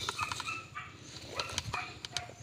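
A dog chasing a monitor lizard outdoors barks and yelps in quick repeated bursts, fairly close, with a rooster or chickens faintly in the background.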